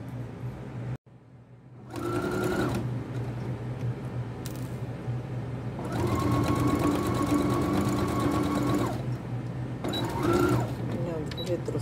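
Sewing machine stitching and backstitching a triangular zippered necessaire: three loud, steady motor runs of a few seconds each, broken by short pauses, with a constant hum under them.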